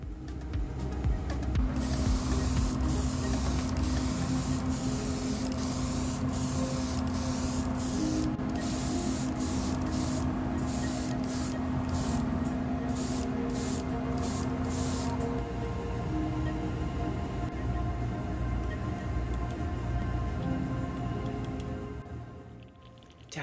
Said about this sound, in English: to tone down the gloss a little bit, a semi-gloss layer of varnish is added over top